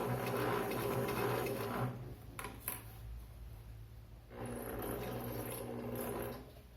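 A domestic sewing machine runs slowly under pedal control during beginner stitching practice, with two steady mechanical whirring runs separated by a quieter pause of about two seconds.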